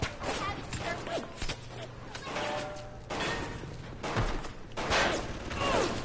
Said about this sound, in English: Who is shooting at what, man?